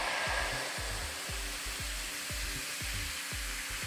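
A pressure washer sprays through a narrow nozzle onto a car, a steady close hiss riding over a rhythmic low thumping of the pump throughout.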